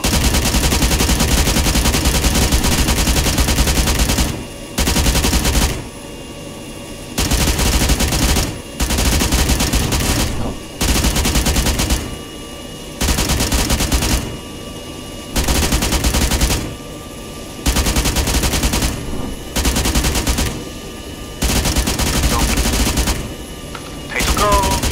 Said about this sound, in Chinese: 那个用机炮就好吧